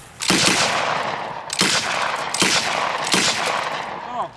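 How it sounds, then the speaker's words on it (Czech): Machine gun fired at a range in single shots, four loud, sharp reports spaced about a second apart, each with a long echoing tail rolling across open ground. "Teď tady bude následovat střelba."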